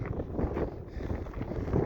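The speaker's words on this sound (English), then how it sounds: "A little windy, but not too bad." Gusty wind on a high Colorado mountain summit ridge buffets the microphone in low rumbling bursts, a steady outdoor roar with no voices.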